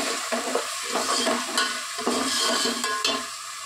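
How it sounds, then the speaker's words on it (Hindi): Hyderabadi bagara khana korma being stirred and mixed in a pan, with repeated scraping strokes of a utensil against the pan over a soft steady sizzle, close and fairly loud, with no talking. "अच्छे से मिक्स कर लेना"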